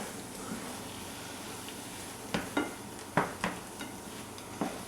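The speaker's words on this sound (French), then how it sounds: "Et mélange avec les œufs brouillés." Scrambled eggs with tomatoes are stirred in a pan over a faint sizzle, a few sharp scraping clinks of a utensil against the pan at irregular moments.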